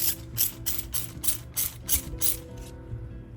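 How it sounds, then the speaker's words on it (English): A handheld spray bottle misting a houseplant, firing about eight quick, evenly spaced hissing bursts close up, with a faint hum between them. "let's go ahead and spray"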